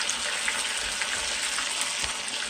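Gluten-free chicken wings fry in a pan with a dense, steady crackling sizzle, close and loud throughout with small pops.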